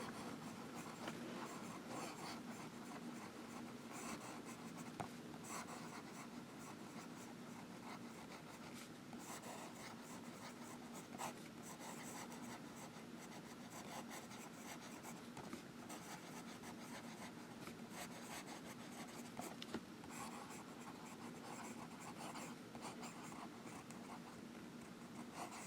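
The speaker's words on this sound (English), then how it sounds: "And a little bit of writing." Franklin-Christoph Model 20 Marrietta fountain pen with a wet nib writing on paper, a faint, steady scratchy rubbing that runs continuously at close range with no talk.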